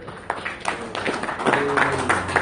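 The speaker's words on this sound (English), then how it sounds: "Round of applause if you don't want Sean to hurt." Scattered, uneven applause from a small audience at a posture talk by a neuromuscular therapist, with a few faint voices mixed in.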